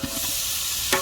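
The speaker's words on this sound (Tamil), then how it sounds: "வெங்காயம் நல்லா வதங்கிட்டு இப்போ தக்காளி பழம் சேர்த்துக்கலாம்." Onions and tomatoes sauté in a pan for a vegetable biryani, a short bit of hissing frying broken by a soft scrape of stirring near the end, up close and with no voices.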